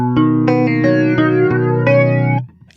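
Electric guitar run through the second flanger setting of a TC Electronic Corona Chorus pedal, playing a string of loud, sustained chords and notes with a swirling, sweeping shimmer, ending abruptly with a brief scrape.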